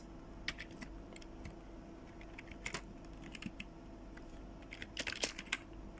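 Someone types a code comment on a computer keyboard, with a quiet, uneven patter of key clicks that picks up into a quick flurry near the end over a low room hum.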